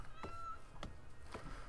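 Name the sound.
cat meowing in the video game Rimworld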